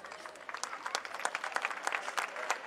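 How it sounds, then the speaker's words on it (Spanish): Audience clapping at an outdoor lake festival concert, a steady scatter of individual claps with a faint murmur of crowd underneath, moderately near and continuous for a few seconds. "Un fuerte aplauso para él."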